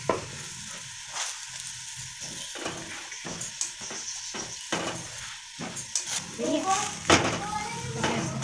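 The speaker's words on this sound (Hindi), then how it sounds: "पराठे को अच्छे से सेक लेंगे दोनों साइड से। घी डाल देंगे।" A paratha frying in ghee on a hot pan gives a steady sizzle, broken by scraping and stirring clatter and a few louder crackles, with speech running over it.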